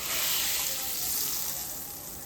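Chili powder fried in coconut oil sizzles steadily as it is added to a fish curry, a dense, close, continuous hiss with no talking.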